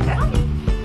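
Puppies in a dog socialization play area bark and yip in short, close bursts with a whimpering edge, filling a brief moment over a busy background.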